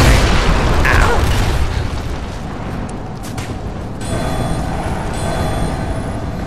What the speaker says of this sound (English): No, that's a grenade.